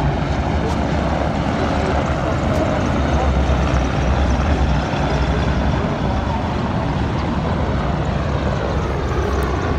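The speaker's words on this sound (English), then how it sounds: "I thought they might do another flyby." Aircraft flying over during the arrival of the aircraft carrier HMS Queen Elizabeth into Portsmouth, a loud, steady engine roar that fills the whole stretch without fading.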